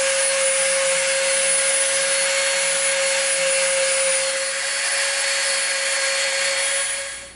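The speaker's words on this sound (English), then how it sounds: "we're gonna come in with our Dremel and we're gonna round this edge off on the inside" A Dremel rotary tool whines at a steady high pitch while rounding off the inside edge of EVA foam, loud and close, fading out only at the very end.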